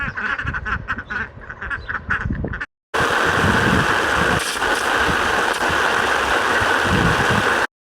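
Ducks quack in a busy, overlapping chatter, followed after a short gap by a loud, steady engine-like drone that fills the rest.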